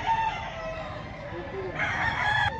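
A fighting rooster for sale in Lipa City, Batangas crows in a short rising call near the end, with a faint earlier crow amid steady background noise.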